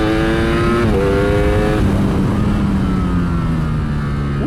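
A Ducati Streetfighter V4S motorcycle screams around a race track in third gear, its engine loud and close, pitch climbing then dropping at a gear change before pulling hard again.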